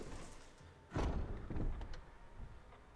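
A heavy door swings open in Resident Evil Remastered with a thudding thump, then a second creaking heave and faint mechanical clicks as it settles, close and without talk.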